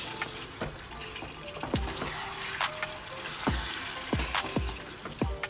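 Chicken pieces fry and are stirred in a pan over a low flame, with a constant sizzle broken by repeated scraping strokes of a spoon against the metal and occasional clinks, close up and without any talk.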